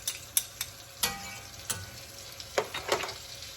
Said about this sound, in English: I'm going to cook this garlic until it's lightly brown